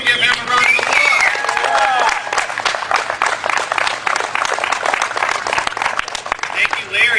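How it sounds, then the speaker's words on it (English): A rally crowd in Lansing applauds for several seconds, dense sustained clapping mixed with crowd noise and a few cheers, with a voice speaking over it. "Give him a round of applause."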